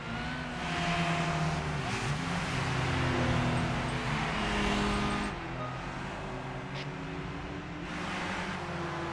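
Racing car engines in Gran Turismo 5, a steady loud drone of several cars at speed with shifting revs and an overtaking push, fairly close and continuous throughout.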